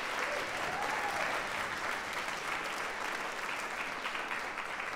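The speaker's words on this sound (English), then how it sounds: "A big round of applause." An audience at a recital in Merkin Hall applauds, a dense, even wash of clapping from many hands that holds steady throughout, heard from a moderate distance with no talking.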